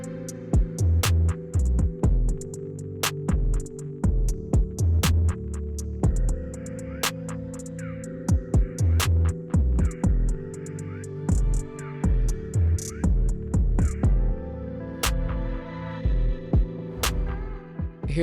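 Sewing machine stitching the top and bottom of an upcycled sweatshirt together, running in short bursts of rapid needle thumping broken by pauses and a few sharp clicks, close by with a low motor hum.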